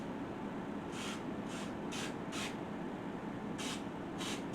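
Cooking spray can sprayed in several short hissing spurts, about seven quick bursts in an irregular rhythm, close and fairly faint over a low steady background.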